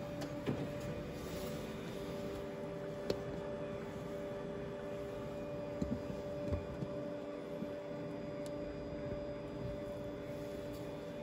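Konica Minolta office printer warming up before printing, a steady low hum with a constant electrical whine and occasional faint clicks throughout.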